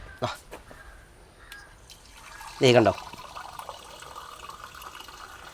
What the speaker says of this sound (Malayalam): ഇത് മോളിൽ പോയിട്ട് തിരിച്ചു വരുന്ന വെള്ളം നമുക്ക് കാണാം